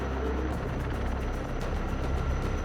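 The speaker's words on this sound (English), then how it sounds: "an Erickson air crane helicopter lifted the full-scale spacecraft to verify proper aerodynamic flight performance" An Erickson Air Crane helicopter carrying a full-scale spacecraft gives off a steady, pulsing rotor drone with rapid blade thumps, heard continuously at moderate distance.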